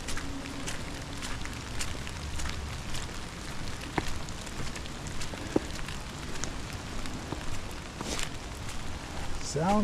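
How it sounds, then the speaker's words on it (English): Rain patters steadily on foliage and the ground along a forest trail through bamboo, a dense even hiss with scattered drips, heard up close with occasional footsteps and a brief voice at the end. "Sounds a little bit like the rain is picking up."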